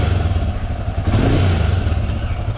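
A Royal Enfield Himalayan motorcycle fitted with an NGK ignition cable runs loud and close, its thumping single-cylinder engine swelling in a brief rev before settling back.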